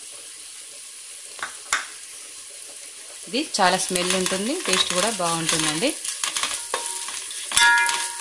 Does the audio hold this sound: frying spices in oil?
yes